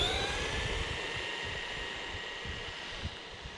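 A cheap 1/16 scale RC car runs at 70% throttle, its electric motor giving a steady, high-pitched whine that holds even throughout with no pauses or voices.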